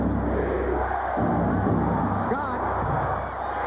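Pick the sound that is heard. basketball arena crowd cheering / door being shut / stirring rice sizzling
basketball arena crowd cheering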